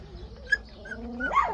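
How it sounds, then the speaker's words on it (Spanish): A dog gives short whimpers and a brief yelp, ending in a rising whine, fairly close in a quiet outdoor setting. "Mira qué perro más largo."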